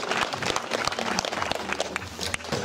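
Crowd at a BMX flatland jam claps and cheers for the winner, an energetic burst of many scattered hand claps, fairly close and continuous, with some voices mixed in.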